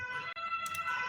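An ambulance siren in a chaotic game scene holds a steady, high wailing tone throughout a brief moment, fairly distinct against light background noise.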